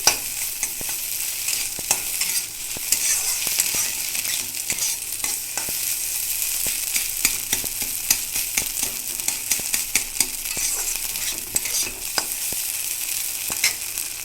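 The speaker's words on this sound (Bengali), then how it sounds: "ডিমটা কিন্তু ভালো করে ভাজা হয়ে গেছে।" Egg sizzling and frying in a hot pan, a steady bright crackle with frequent sharp pops and occasional stirring scrapes, close and continuous with no talking.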